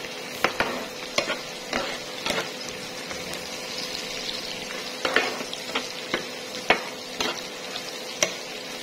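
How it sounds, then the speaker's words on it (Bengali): Onions frying in oil in a frying pan, a soft continuous sizzle broken by the repeated scrape and clink of stirring, with no talk. "এখন তেলের মধ্যে পেঁয়াজ দিয়ে দিলাম।"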